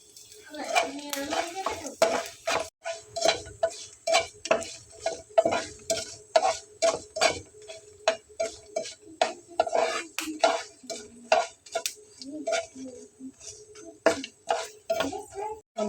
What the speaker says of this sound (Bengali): সরিষাগুলো ফেটে যাচ্ছে